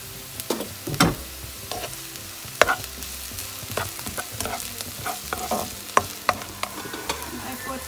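Chopped onions and garlic stir-fry in a hot pan for a Filipino vegetable stir-fry, a steady close sizzle broken by irregular scraping and clacking strokes of the spatula.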